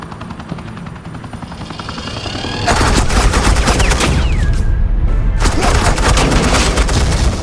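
Suppressing gunfire in the video game Batman The Enemy Within: after a quieter opening, loud sustained automatic fire erupts and rattles on continuously, with a brief break midway before the barrage resumes.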